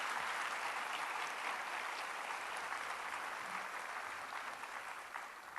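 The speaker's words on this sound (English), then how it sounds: "Congratulations and a big round of applause again for Quartetto Bravura." Sustained applause from a concert audience for a string quartet, a dense even wash of clapping at moderate distance that slowly fades near the end.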